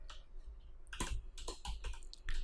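Rapid keystrokes on a computer keyboard while writing HTML, a close, irregular run of sharp clicks in short bursts, with no talking.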